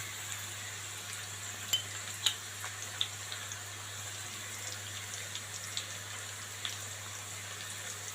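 Red chili paste fries in a pan as it is stirred, making a quiet, soft sizzle broken by scattered light scrapes and clicks over a low background hum.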